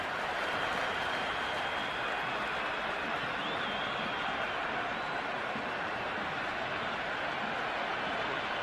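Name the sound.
crowd applauding in Cricket 26 video game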